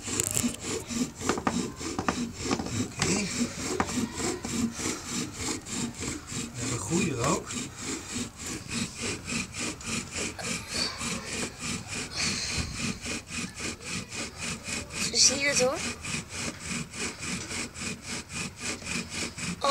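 A bow drill rubs wood against wood to start a fire in the woods, giving a steady, rhythmic back-and-forth scraping that runs close and continuous, with brief voices now and then.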